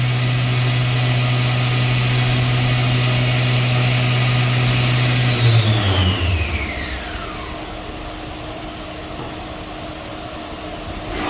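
Fadal VMC machining center spindle spinning at high speed, a loud steady whine with strong tonal hum that then winds down in pitch over a few seconds to a lower, quieter run; no talking.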